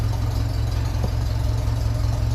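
A 1957 Ferguson 35 tractor running on TVO idles with a vertical exhaust, giving a steady, loud, low chugging throb with an even pulse throughout and no voices.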